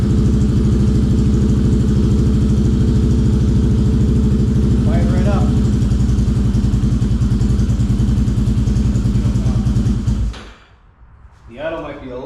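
A 2009 Yamaha Raptor 350 ATV idles loud and close with a steady low throbbing thump, then cuts out abruptly near the end, followed by brief talk.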